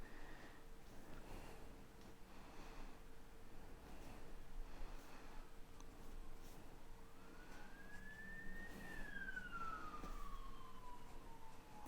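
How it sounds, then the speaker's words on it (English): Police car sirens pass along a seaside promenade, rising and falling as they go by at a moderate distance over steady traffic and wind noise, with no one talking. "A few police cars flying across the prom."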